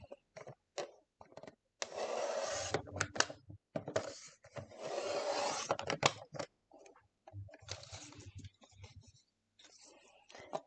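Paper trimmer slicing a scrapbook sheet, with several bursts of close, dry scraping and sliding between softer handling taps and rustles at a craft table.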